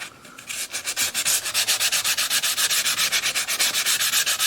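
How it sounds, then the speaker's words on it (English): Sandpaper of 180 grit rubs back and forth on the wooden braces inside a custom 12-string dreadnought guitar. The close, steady strokes keep an even rhythm, with no talking. "I'm using 180 grit sandpaper, so it's pretty smooth sandpaper"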